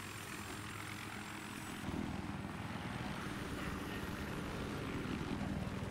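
An attack helicopter in Battlefield 3 flies nearby with a steady, loud rotor-and-engine roar that swells slightly partway through, with no talking over it.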